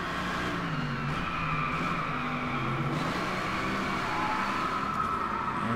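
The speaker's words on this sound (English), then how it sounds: "Powerful race car, rather." A Mercedes-Benz AMG GT3 race car of roughly 600 horsepower roars steadily through a Driveclub track race, its engine tone droning loud and continuous, rising and falling slightly with shifts, tire noise mixed in.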